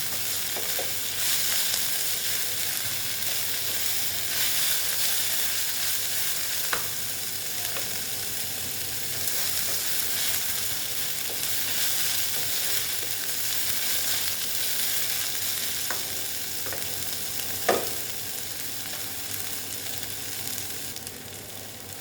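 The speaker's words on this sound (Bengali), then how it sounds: "ভেজে নিচ্ছে মোটামুটি অনেকটাই হয়েছে" Red amaranth greens frying in a pan give a dense, steady sizzle heard up close for the whole stretch, broken by a few sharp clicks of a spatula against the pan, with no voices.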